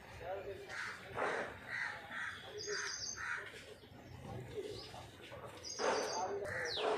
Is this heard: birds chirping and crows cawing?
yes